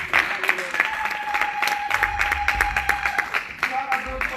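A church congregation applauds and cheers at a French-language service, with a steady wash of clapping running under voices and some musical tones.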